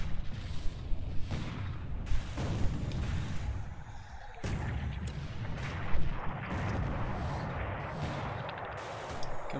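Naval artillery fire in the War in the Pacific video game booms repeatedly, heavy gun blasts landing one after another in an irregular series, loud and close with rumbling tails.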